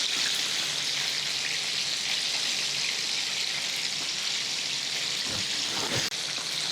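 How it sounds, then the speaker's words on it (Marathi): Brined chicken deep fries in oil for KFC-style crispy fried chicken, giving a constant, even crackle and sizzle with a couple of soft knocks near the end and no voices. "आता दुसरी बाजू पण किमान 3-4 मिनिटं तळून घ्यायची."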